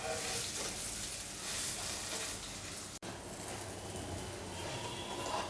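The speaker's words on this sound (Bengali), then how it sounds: "এপিট ওপিট লাল করে আমি এবার ভেজে নেব" Paneer bread pakora frying in butter in a pan, a loud, dense, continuous sizzle heard up close with no talking, briefly cut by a short dropout midway.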